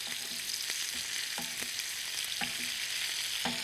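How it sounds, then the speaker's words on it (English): Scallops sizzle and fry steadily in butter in a pan, a continuous bright hiss broken by occasional soft clicks and pops, close and alone with no talking. "I like to braise the scallops with the butter in there"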